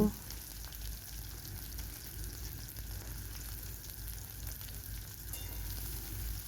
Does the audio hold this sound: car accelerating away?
no